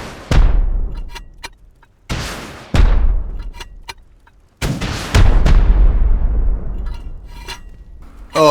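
Rockets pounding a player's base in the video game Rust, a string of heavy booming explosions with long decaying rumbles, several close impacts arriving in uneven bursts.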